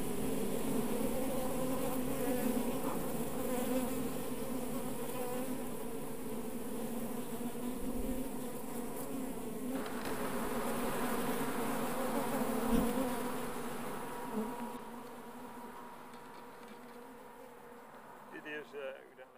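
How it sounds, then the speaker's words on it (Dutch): Bees hum steadily near beehives set beside sown flower strips on farmland, a dense continuous buzz of many insects close by, with a voice talking over it in places. "Imkers zetten hun bijenkasten naast de randen."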